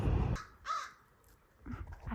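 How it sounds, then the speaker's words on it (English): A crow caws several times, with a harsh call at the start and more raspy caws later, fairly close against a quiet background. "I love crows so much."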